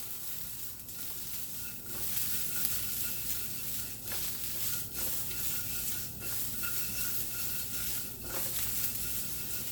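Green beans searing in a hot wok, a steady close sizzle and crackle with rhythmic pulses as the wok is tossed, bright hissing throughout without voices.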